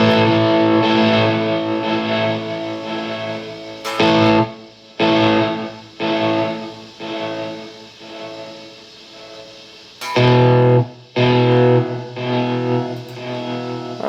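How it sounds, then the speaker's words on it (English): A heavily distorted, reverb-drenched guitar, played through a distorted reverb plugin preset, plays sustained chords that swell and cut off abruptly several times, loud and saturated with a washy tail. "Distorted reverb. Let's see what that sounds like."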